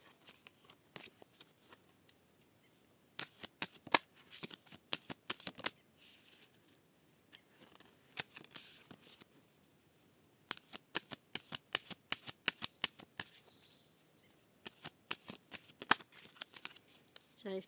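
A deck of tarot cards is riffled and shuffled by hand in several bursts of quick, crisp flapping and snapping, separated by quiet pauses, close and fairly soft.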